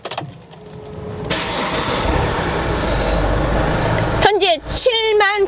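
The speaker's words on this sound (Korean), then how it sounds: "시동 걸어서 엔진 상태 살펴보겠습니다." A Daewoo Winstorm 7-seater 2WD SUV engine with about 70,000 km cranks and catches, then settles into a steady idle rumble; a person starts talking over it near the end.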